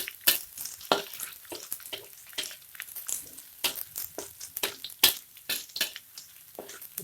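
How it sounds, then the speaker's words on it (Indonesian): Garlic and shallots sauté in a hot pan, with a steady crackling sizzle broken by repeated scraping stirs, close and fairly loud, and no voices. "Kita tumis agak kekuningan sedikit ya sahabat."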